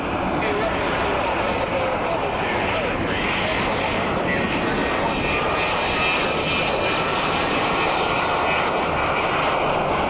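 A loud airplane at Columbus John Glenn International Airport roars steadily and close for ten seconds, its engine drone continuous and dense, with a voice speaking beneath it.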